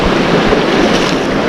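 Fast current of the Virgin River rushes through a slot canyon, a loud, continuous roar of water close to the microphone, mixed with gusty wind buffeting.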